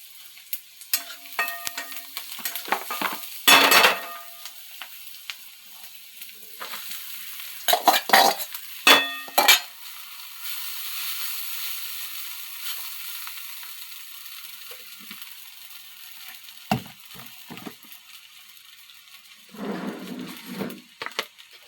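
Cumin and turmeric sizzling in a pan for poha, with a utensil scraping and clinking in bursts of stirring separated by quieter stretches of soft frying, heard close with no talking.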